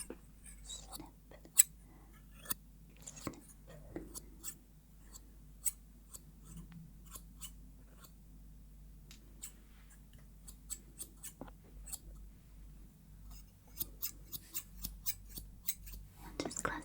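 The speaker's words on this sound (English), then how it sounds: "Snip, snip." Scissors snip close and crisp through hair during a quiet binaural haircut, scattered single cuts at first, then a faster run of small snips near the end, over a near-silent background.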